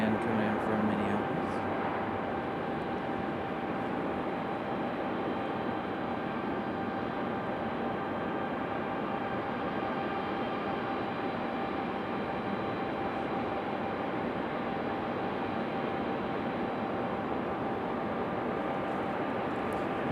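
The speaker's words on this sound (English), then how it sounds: "this Delta again coming in from Minneapolis" A Delta airliner arriving from Minneapolis at Raleigh-Durham airport makes a faint, steady distant engine drone with a thin whine, continuous throughout.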